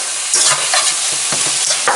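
Cashew chicken stir-frying in a hot pan with green and red onions: a constant loud sizzle with repeated scraping stirs and tossing bursts, close by and without voices.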